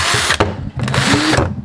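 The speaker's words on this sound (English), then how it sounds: "So we're drilling some holes here." A small drill whirs in close, high-pitched bursts, with a short pause and a ratcheting stop-start as it bores drainage holes through the bottom of a paludarium tray.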